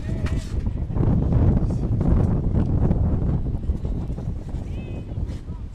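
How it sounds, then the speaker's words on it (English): Gusty wind blows across an outdoor softball field during a game, buffeting the microphone with continuous loud rumbling noise that rises and falls. Faint voices may be present underneath. "And that wind causing havoc around Connervale today."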